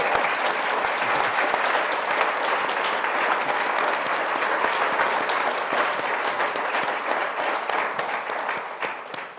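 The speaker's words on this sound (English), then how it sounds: "Let's start first with one more round of applause" An audience at a storytelling stage event breaks into sustained applause, dense loud clapping from a large crowd that holds steady for several seconds and tapers slightly at the end.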